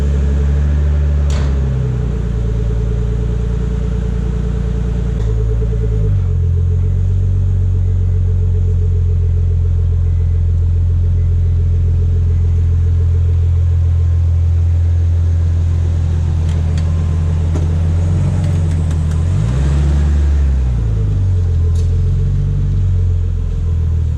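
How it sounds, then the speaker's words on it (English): A Nissan R32 Skyline engine runs on a cold start in a garage, with a steady, heavy low rumble throughout and a few gentle rises and dips in revs, close and continuous with no talking. "now we're going to do a cold start on the Skyline"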